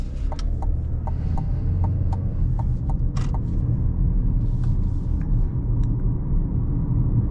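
Steady low road and engine rumble fills the cabin of a 2025 Chevrolet Equinox LT AWD with a rough-sounding 4-cylinder engine while driving, joined by faint, evenly spaced ticks over the constant drone.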